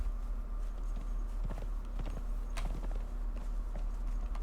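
Steady clip-clop of horse hooves walking at an even pace in the video game Conan Exiles, fairly close, over a constant low background hum.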